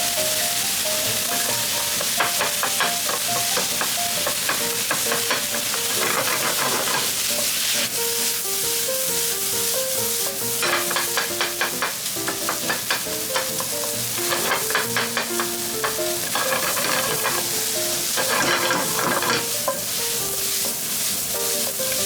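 Chicken sautéing in a pan with soy sauce and seasonings, sizzling loudly and continuously while being stirred, with frequent scraping and clinks of a utensil against the pan and soft background music.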